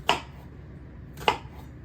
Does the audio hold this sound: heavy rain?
no